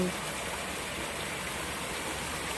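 Steady rushing roar of a waterfall at the Tham Phra Phothisat cave temple in Saraburi, Thailand, a continuous, even wash of water noise heard from nearby.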